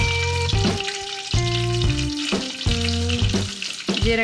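Cumin seeds sizzle and crackle steadily in hot oil and butter while a tuneful melody plays over the top.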